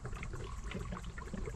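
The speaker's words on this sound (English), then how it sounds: "Now we're just gonna top her up with coolant." Coolant pours into the radiator of a 1979 vehicle during a radiator and thermostat replacement, a steady low liquid gurgle and trickle that runs continuously at close range with no talking.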